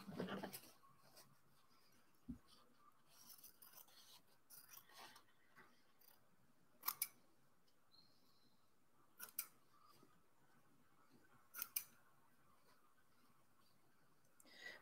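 Scissors snip fabric scraps for a slow-stitched cactus piece, producing sparse, faint, isolated clicks and short cuts spread across a quiet background, with no talking.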